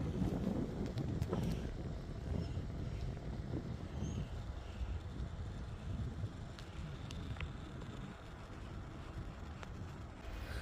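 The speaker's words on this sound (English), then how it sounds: "So the wind's picking up some." Steady wind rushing past a bicycle rider on a paved rail trail, a continuous low rumble and buffeting that holds evenly throughout, with no voices.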